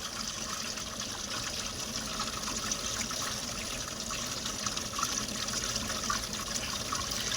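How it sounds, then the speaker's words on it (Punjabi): Water flows into a farm channel on a rainy day, a steady, soft gushing and trickling wash that continues unchanged throughout, with no voices heard. "ਆ ਗਿਆ ਪਾਣੀ ਆ ਗਿਆ"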